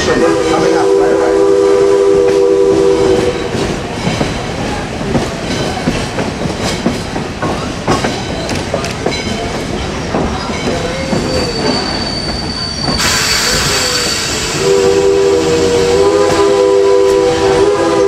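An Essex steam train pulls into the station. A loud steam whistle blasts at the start and again near the end, and long metallic wheel squeals and rolling clatter run continuously in between.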